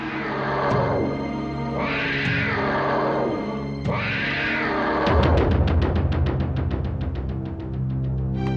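A cat in a Hindi children's TV drama gives three drawn-out meows in a row, each rising and falling, followed by a rapid pulsing, rattling sound. The sounds are close and fairly loud.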